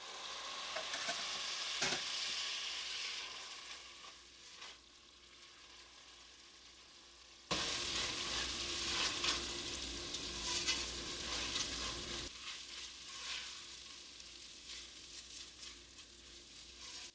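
Garlic cream sauce chicken and risotto cooking in a sun oven, giving a steady soft sizzle with occasional stirring scrapes; a louder stretch of bubbling and frying sets in about halfway through, with no voices.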